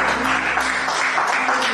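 A church congregation applauds loudly and steadily at a prayer service, a dense, continuous wash of many hands clapping with voices faintly mixed in.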